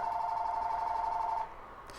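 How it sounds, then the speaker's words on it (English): A telephone rings with a steady electronic trill for about a second and a half, then cuts off, leaving faint background hiss. "there's a phone and it's bothering me"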